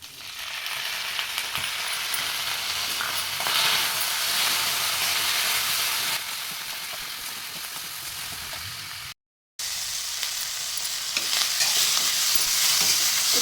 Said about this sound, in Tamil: இப்போ நம்ம அறுத்து வச்சு தக்காளி இதோடு சேர்த்து வதக்கலாம்